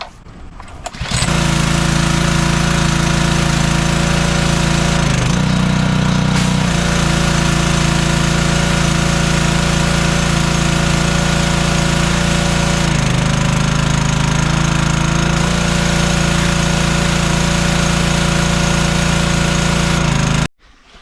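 Loud, steady gas engine of a Simpson pressure washer roaring close by, starting abruptly and running continuously before cutting off at the end.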